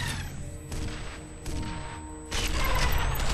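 Gunfire in the first-person shooter F.E.A.R. comes as a few sharp, loud bursts spaced about a second apart, with the last shot trailing into lingering noise.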